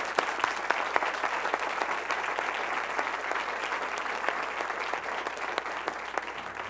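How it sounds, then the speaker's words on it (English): An audience at a school board meeting applauds the Morton Choir: steady crowd clapping with a few sharp, close individual claps standing out, sustained for several seconds at a moderate level without speech. "Another round of applause for the Morton Choir."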